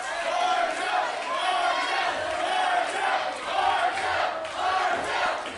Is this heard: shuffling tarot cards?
no